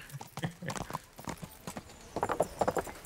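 Horse hooves clip-clopping in the Kingdom Come Deliverance video game, a steady trot of repeated hoof strikes at moderate level, with a brief whinny-like sound and some talk mixed in.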